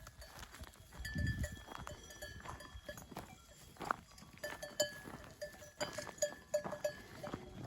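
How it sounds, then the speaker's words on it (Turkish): Sheep and goats move about under pear trees in a village, with scattered bleats, soft rustling and faint bell clinks over a quiet outdoor background. "Koyunlar burada armutların altında geziyor."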